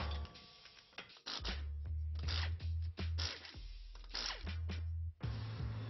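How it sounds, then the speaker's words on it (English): Lug nuts come off a car wheel during a brake caliper and rotor replacement, with a run of ratcheting, clicking mechanical bursts and short pauses between them, up close and with no one talking. "Next, we take off the wheel."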